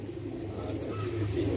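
Pigeons in a loft give soft, low, repeated coos that overlap in a continuous murmur, close and moderately quiet, with no talk.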